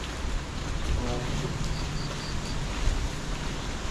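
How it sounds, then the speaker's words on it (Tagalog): Heavy rain pouring down outdoors, a steady broadband hiss that holds evenly throughout with no pauses, fairly loud and close. "Yun, ulan na ulan."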